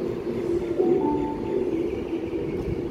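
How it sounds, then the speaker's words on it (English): Tangara train approaching platform 4 at Chatswood station on a Lindfield service, a steady low rumble and rolling hum with a faint tonal whine, moderately loud and continuous without talk. "it looks like we have a Tangara approaching platform 4 for a Linfield service"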